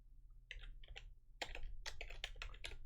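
Rapid bursts of keystrokes on a computer keyboard as code is typed, close and clear, in short clusters with brief pauses and no talking.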